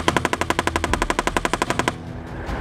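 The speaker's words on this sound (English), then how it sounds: "we're conducting our annual Bradley Fighting Vehicle Gunnery cycle for qualifications" A Bradley Fighting Vehicle's machine gun fires a loud, rapid burst of about twenty evenly spaced shots during gunnery qualification, then stops abruptly, leaving faint outdoor ambience.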